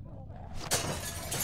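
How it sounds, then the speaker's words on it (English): A window shattered with a bat in The Walking Dead game: a quiet lead-in, then a sharp crash of breaking glass followed by a scattered tinkling spray of shards. "Use the bat to shatter that window so you can reach in, okay?"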